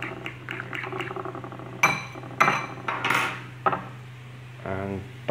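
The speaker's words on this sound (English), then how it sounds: "So I'm just going to give it a quick mix up" A whisk or utensil stirring egg in a bowl clinks and scrapes against the dish in short, irregular bursts, with a steady background hum and a brief swishing near the end.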